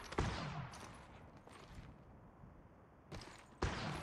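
Gunfire in the video game Apex Legends Mobile, with a few faint distant shots and short bursts separated by quieter stretches.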